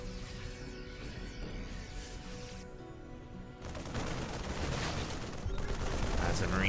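Terran Marines firing at a Baneling in StarCraft 2, a rapid crackle of gunfire that swells into dense continuous bursts, heard among game effects with a caster talking excitedly over it.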